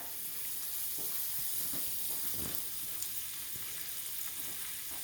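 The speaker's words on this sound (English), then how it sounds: "first I'm going to melt my butter here in my skillet" Butter melting in a skillet gives a steady, even sizzling hiss throughout, with faint soft pops and ticks scattered through it, heard close and alone without talk.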